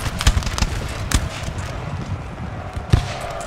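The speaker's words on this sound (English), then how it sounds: "Cannon shots bounce through." Cannon fire in the Napoleon: Total War battle game, a series of dull booming thumps and cracks scattered irregularly over a noisy background of battle ambience, moderately close.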